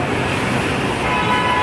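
Night road traffic in Dhaka rolls past steadily, with a continuous engine and tyre rumble, a brief horn-like tone and no talk over it.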